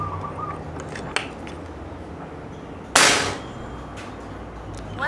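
A Pasopati PCP air rifle fires once, a sharp, loud crack with a brief decaying tail, after a small click earlier over steady outdoor background noise.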